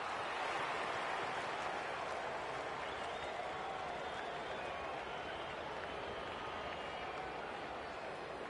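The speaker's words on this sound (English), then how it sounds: "The crowd noise tells you all you need to know." Crowd roaring and cheering at an AFL match in the AFL 26 video game, a dense, steady wash of distant stadium noise that stays at an even level throughout.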